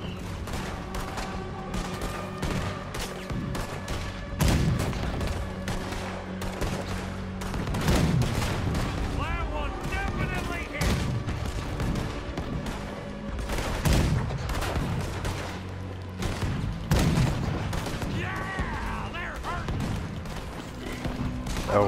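Cannon fire aimed at a boat in Red Dead Redemption 2, with repeated loud booming shots and crackling gunfire-like bursts spread across the scene, some spaced several seconds apart amid continuous background noise.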